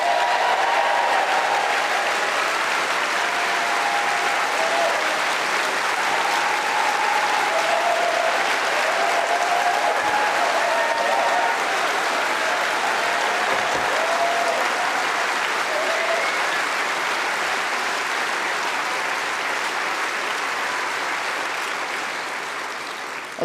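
A conference audience at a Labour Party conference speech applauds and cheers, a dense, loud, sustained wave of clapping filling over twenty seconds with crowd voices mixed in, tapering only slightly at the end.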